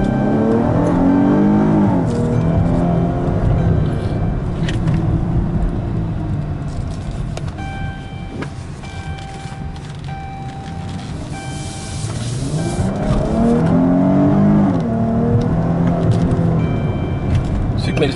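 A Chrysler 300C John Varvatos Special Edition with a 3.6L AWD 24-valve V6 revs up and down in rising and falling sweeps, loud and close, while someone talks over it.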